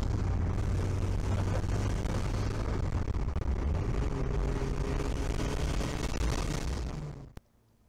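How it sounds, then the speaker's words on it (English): Turbocharged car accelerating hard in a third-gear pull from around 2,000 RPM, a dense, loud rumbling engine roar with heavy wind and road noise that builds steadily, then cuts off abruptly near the end. "I'm doing third gear pulls, which means I can do the speed limit and still get into higher RPMs."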